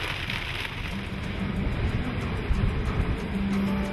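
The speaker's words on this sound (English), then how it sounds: "It's still raining." Steady rain falls on Cape Cod, a dense, even hiss of drops on surfaces that continues without a break, with a low rumble underneath.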